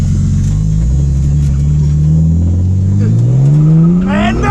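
A 600+ hp Barra-engined drift car revs hard, its loud, close engine note climbing steadily in pitch as it accelerates, with rising harmonics near the end.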